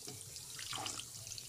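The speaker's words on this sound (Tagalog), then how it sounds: "Lagyan na natin ng tubig." Tap water pours steadily into a cooking pot for boiling pork belly, a continuous splashing rush that rises slightly in pitch as the pot fills, with no speech.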